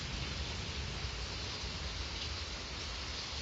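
Heavy rain pours down outside a flooding home, a dense, steady hiss that stays constant throughout with no voices.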